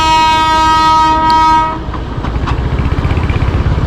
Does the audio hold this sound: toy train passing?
yes